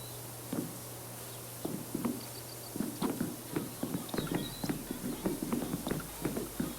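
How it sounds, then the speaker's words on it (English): Footsteps in the video game PowerWash Simulator, a steady run of hard, clopping steps that starts sparse and then falls into a quick, regular walking rhythm, close and moderately loud over a faint background hum. "The footsteps are a bit disconcerting."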